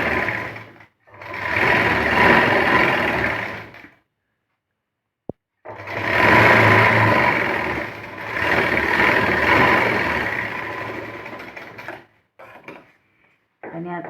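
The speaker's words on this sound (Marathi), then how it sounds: "आता ही खालची बाजू पण शिवून घ्यायची" A sewing machine stitches the lower edge of a puff sleeve in bursts: a short run, a longer run, then a pause before two long continuous runs and a few brief stutters at the end, all close and clear.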